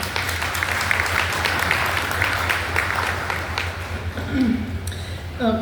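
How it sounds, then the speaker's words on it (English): Audience applause fills a Chamber of Commerce banquet hall, a dense, sustained round of clapping over a low steady hum, with a few voices mixed in near the end. "Let's give yourselves a round of applause."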